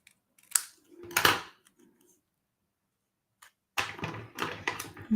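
Paper being trimmed with scissors during a papercraft project, heard as a few short crisp snips near the mic, then a pause before a busier run of cutting and handling.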